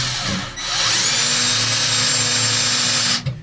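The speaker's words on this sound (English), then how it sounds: "I'll just start my screw through this pre-drilled hole" A power drill driving a screw through a pre-drilled hole while installing a sauna recliner whirs steadily at close range for a few seconds, its motor pitch holding even before stopping abruptly.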